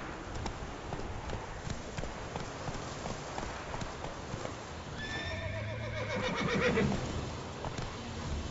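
Horse galloping in the Witcher 3 video game, quick rhythmic hoofbeats under a steady background, followed by a loud whinny and snorting midway through.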